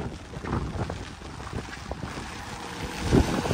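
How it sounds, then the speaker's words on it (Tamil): Strong wind and rain near a flooded bridge in Jaffna, a steady rushing, buffeting noise with scattered bumps and a slightly louder surge near the end. "பலமாக காற்று மடிக்குது, மழையும் பெய்யுது"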